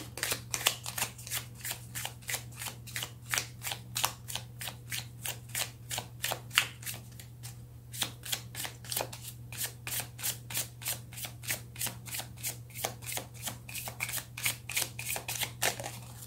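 Tarot cards shuffled close by in a long run of rapid riffles and snaps, steady rhythmic bursts over a low constant hum, with a short pause midway.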